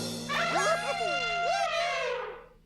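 Voice imitating an elephant trumpeting, a loud, wavering, brassy blare with sliding pitch lasting about two seconds before fading, heard on its own within a children's cartoon.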